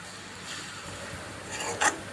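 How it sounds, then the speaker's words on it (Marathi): A spoon stirs a thick desiccated coconut and milk ladoo mixture in a pan, giving a steady close scraping rasp with a brief louder scrape near the end and no talk. "आपल्याला इथे ढवळत राहायचे आहे म्हणजे मिश्रण छान एकजू होईल"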